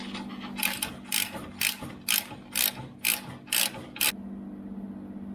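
Ratchet wrench tightening a bolt on an Armstrong shock mount of an Austin Healey, about eight sharp clicking bursts in quick rhythm, close and clear over a low steady hum, then stopping.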